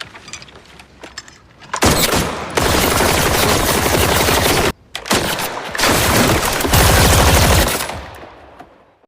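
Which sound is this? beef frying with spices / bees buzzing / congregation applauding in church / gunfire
gunfire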